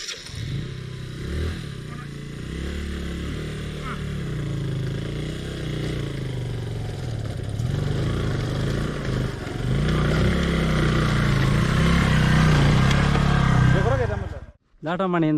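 Motorcycle engine starts and settles into a steady, loud idle with low rumbling, revving slightly higher toward the end before cutting off abruptly; recorded outdoors near a hilltop trail, with a voice talking faintly over it.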